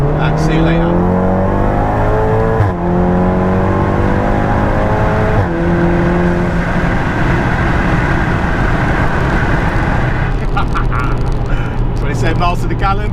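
A 540 bhp MRC-tuned Volkswagen Golf R drops a couple of gears and accelerates hard, loud engine note climbing in pitch through two quick shifts, heard from inside the car with a steady roaring drone and no talking.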